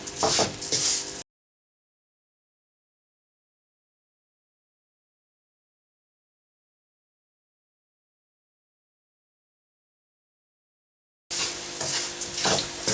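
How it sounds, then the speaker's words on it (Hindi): Carrot and semolina halwa with sugar sizzles as a spoon scrapes and stirs it in a pan. A short burst is heard at the start and another at the end, separated by a long stretch of silence. "अब दोबारा हमने इसको 3 मिनट के लिए पकाना है।"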